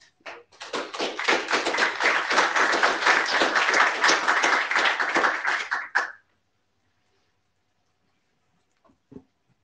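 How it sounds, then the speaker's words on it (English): A meeting audience breaks into sustained applause lasting about six seconds, dense and steady, then stops abruptly into near silence with a faint stray clap afterward. "I think that deserved a round of applause"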